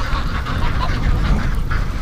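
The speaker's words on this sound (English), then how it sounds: "Muscovies, always flying out." Muscovy ducks at a feeder at night give soft, rapid repeated calls over a dense, noisy outdoor background, fairly loud and close throughout.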